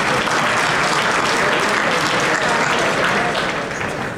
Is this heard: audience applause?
yes